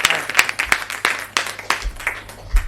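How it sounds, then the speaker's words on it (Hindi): An audience claps to welcome a poet onto the stage, a run of uneven, distinct hand claps with irregular sharp peaks, fairly loud and close, from a modest crowd. "जोरदार तालियों से उन्हें आमंत्रित करें।"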